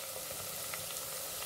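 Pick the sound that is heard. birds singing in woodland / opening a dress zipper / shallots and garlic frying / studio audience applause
shallots and garlic frying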